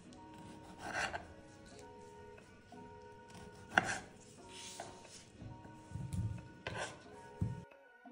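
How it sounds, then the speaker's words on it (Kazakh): Knife chopping cherry tomatoes on a board: a quiet, close series of separate cuts and scraping strokes spaced irregularly, with soft pauses between them. "Çeri pomidorlarımızı turab alamız."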